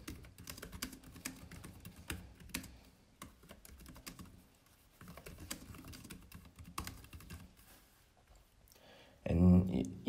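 Quick keystrokes patter on a computer keyboard while text is entered in the Vim editor on Linux, soft and uneven clicks running close, with a brief louder thump near the end.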